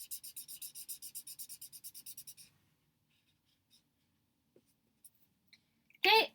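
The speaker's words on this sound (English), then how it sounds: "So let's draw that on there." Marker drawing a blue tulip outline on paper, a run of quick rhythmic scratchy strokes close up for a couple of seconds, then near silence with a few faint taps before a short burst of noise at the end.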